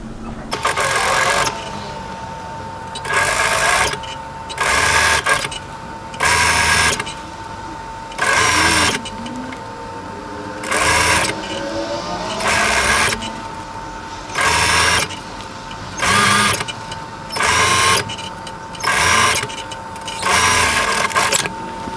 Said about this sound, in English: I'm going to run a second line of stitching parallel to the first line of stitching